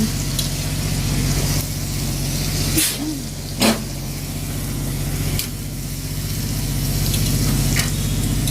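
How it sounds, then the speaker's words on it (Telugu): Soaked chickpeas land in a hot frying pan and sizzle steadily for the whole stretch, with a few brief sharper clatters partway through over a continuous loud crackle. "గటాని వేసేస్తుంది శనగలు"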